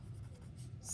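A brief, close scrape of writing on a board during a geometry lesson in a classroom, a steady rubbing stroke lasting about a second.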